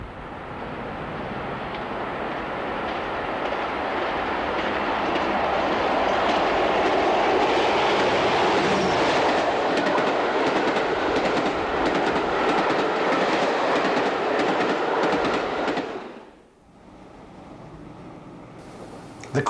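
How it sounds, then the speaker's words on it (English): Diesel-hauled passenger express passing Respin Bridge in Cornwall, a loud sustained rumble with rail clatter building steadily, holding for about fifteen seconds, then dropping away abruptly to quieter ambience. "Vanguard approaches Respin Bridge with the 1806 Penzance to Bristol."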